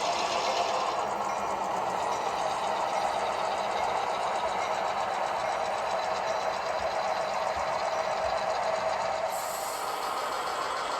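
Locomotive engines of train 409 rumble steadily as they move toward the shop, a continuous loud mechanical drone with a faint hiss over it and no pauses.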